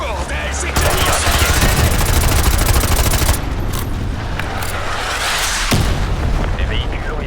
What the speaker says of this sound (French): Je tire à javelin.